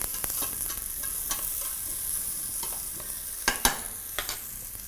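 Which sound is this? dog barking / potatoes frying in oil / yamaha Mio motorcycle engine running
potatoes frying in oil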